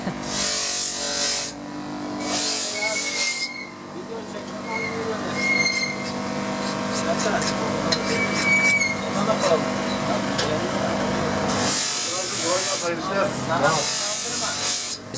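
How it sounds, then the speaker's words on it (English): A street knife sharpener in a town in Turkey grinds a blade, with harsh bursts of grinding at the start and again near the end, amid outdoor street noise and people talking. "you're just walking down the road and get a knife sharpened"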